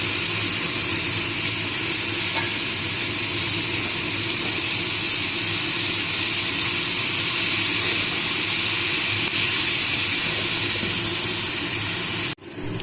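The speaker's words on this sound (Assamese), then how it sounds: "আগে ভাজি লওঁ" A loud, steady sizzle of bottle gourd frying in hot oil with salt and turmeric, a constant hiss that runs on evenly and cuts off abruptly near the end.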